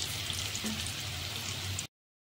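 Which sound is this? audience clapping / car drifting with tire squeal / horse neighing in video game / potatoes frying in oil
potatoes frying in oil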